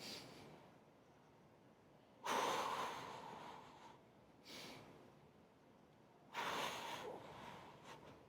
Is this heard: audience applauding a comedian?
no